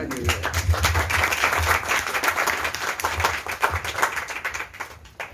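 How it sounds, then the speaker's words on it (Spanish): Audience at a book presentation gives a round of applause, a smaller group clapping with distinct individual claps audible, fairly close, holding steady before fading out near the end. "Un aplauso para Ike."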